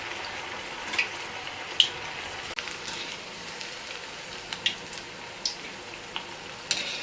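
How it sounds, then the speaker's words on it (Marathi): Dough balls deep-fry in hot oil over a medium gas flame, a steady bubbling sizzle with scattered pops and crackles, no voices. "तेल तापले आता आपण हे गोळे तळून घेऊया मिडियम गॅसवरच तळायचे"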